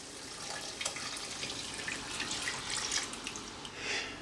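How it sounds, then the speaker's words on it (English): Beef stock is poured into a cooking pot, making a continuous liquid splash and trickle with a few brief drips, fairly quiet and close. "Next, I'm adding in some beef stock or beef broth."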